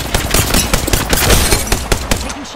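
Rapid bursts of gunfire from an Apex Legends battle, dense overlapping shots and impacts crackling through the whole stretch, loud and close with no pause.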